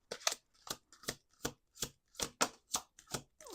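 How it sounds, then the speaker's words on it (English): Repeated crisp riffling bursts of playing cards being shuffled, about ten quick flutters in a steady rhythm, close and clear with no talking. "Let's do two more shuffles."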